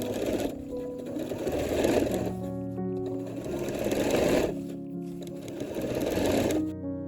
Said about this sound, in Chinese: 接下来呢，就是把袖口下缘还有两边的侧缝线给它们缝起来